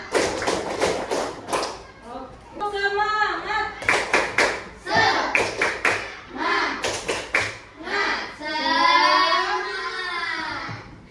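A classroom of children does rhythmic call-and-response clapping, sharp bursts of hand claps in counted groups alternating with a teacher's voice and the class chanting together, close and lively.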